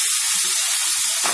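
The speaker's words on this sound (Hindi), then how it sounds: "प्याज को पहले 2 मिनट के लिए थोड़ा सा हम इस तरह से भून लेंगे। अब इसमें टमाटर ऐड करेंगे हम" Onions with tomatoes sizzling in a pan for shahi paneer, a steady close hiss of frying with a few soft low bumps of stirring.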